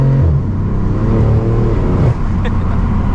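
A BMW F80 M3 engine revs and pulls hard at close range, a deep steady roar with a brief dip in pitch partway through as it accelerates.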